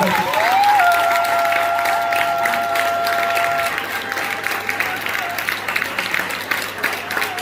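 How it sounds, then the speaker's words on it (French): Wedding guests at a Congolese wedding in Toulouse, France break into sustained applause and cheering, a dense crowd wash with tonal whistles or ululation near the start, steady and loud before thinning slightly toward the end. "Est-ce qu'on peut acclamer"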